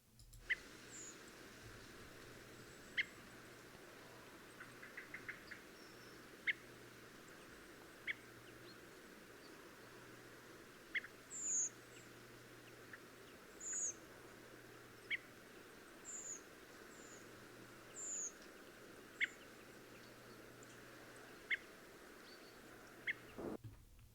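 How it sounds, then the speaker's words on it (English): Short, thin high-pitched redwing calls repeat at irregular intervals over a quiet, steady background hiss. "I'm going to play the call, so you know what you're listening out for when you want to hear Redwings"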